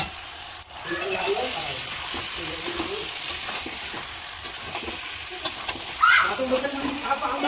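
Onions sautéing in a pan while mutton curry is stir-fried at home, a steady close sizzle with scraping stirs and occasional spatters running throughout.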